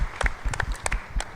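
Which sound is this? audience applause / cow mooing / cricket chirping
audience applause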